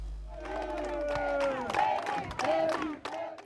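Guinean community crowd in Banjul greeting the President of the Republic: a loud mix of cheering, shouting voices and ululating cries, fairly close and continuous, with no clear speech.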